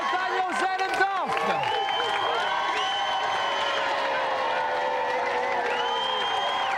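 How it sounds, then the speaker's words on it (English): Studio audience applause with cheering on a 1994 TV video-game show, a dense, steady clapping wash holding throughout, layered with bright electronic music tones and a brief voice near the start. "Round of applause then for Daniel, Zen and Duff."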